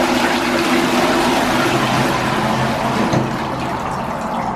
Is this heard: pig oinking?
no